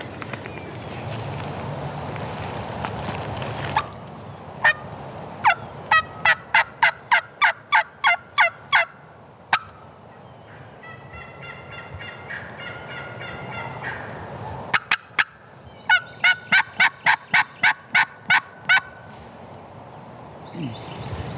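A wild Osceola turkey hen yelps in timber in two runs of quick, evenly spaced calls, each run a rapid series of sharp notes at moderate distance, with quieter faint calling in between and no voices.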